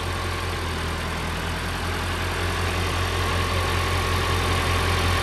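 A tractor engine idles close by on a homestead, a steady low rumble with a constant throb and vibration running unchanged throughout, no voices over it.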